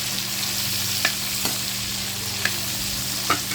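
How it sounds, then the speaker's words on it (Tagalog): Milkfish (bangus) frying in a pan for sinigang sa miso, a steady, close oil sizzle with a low hum underneath and a few sharp utensil clicks scattered through. "kailangan iprito nyo muna yung bangus"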